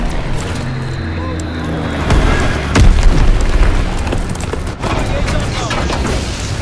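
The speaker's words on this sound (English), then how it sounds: "Dropping Azon bomb." An Azon bomb dropping and exploding in the Call of Duty: WWII video game, heavy booming blasts with rumbling debris and a burst of loud impacts near the middle, set against constant battlefield noise and game voice lines.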